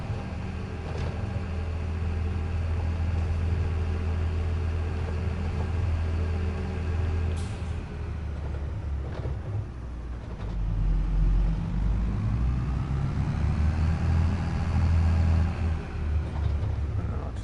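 A vehicle engine idles steadily in Farming Simulator 22, a continuous low rumble that holds at an even level throughout, close and alone with no talk over it.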